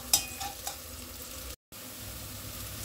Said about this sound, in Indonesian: Tumis hingga layu dan berbau harum, tidak perlu crispy ya teman-teman ya.